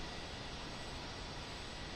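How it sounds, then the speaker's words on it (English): A Daher TBM turboprop airplane engine gives off a steady, dense broadband roar that stays loud and unchanging for the whole moment, with no voices. "The TBM is a monster of an aircraft."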